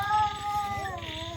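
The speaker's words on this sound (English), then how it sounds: "I'm recording the cat. It sounds so weird." Cats fight with loud, weird caterwauling, a close wavering yowl that rises and bends in pitch over a low rapid pulsing growl.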